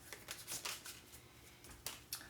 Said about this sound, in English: I will do it, because I do not trust your shuffling capabilities